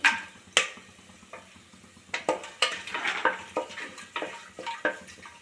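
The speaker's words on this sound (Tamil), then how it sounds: "லைட்டாக வறுத்துக்கோங்க" Cashews and cardamom roasting lightly in oil on a low flame, a soft sizzle broken by repeated scraping and stirring clinks of a spoon against the pan, close and fairly quiet.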